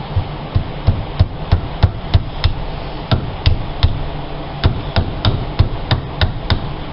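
Sharp metallic taps of a hammer on a nail, used as a punch to drive a speedometer gear part out of a 2000-2005 VW Jetta during a differential replacement, struck in a steady, uneven series of about twenty close, loud hits.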